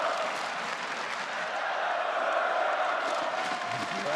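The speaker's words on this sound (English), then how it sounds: "You can hear the crowd there." A large crowd at a League of Legends esports finals arena roars and cheers continuously in a dense, steady wash of voices and clapping, with a commentator's voice faintly underneath.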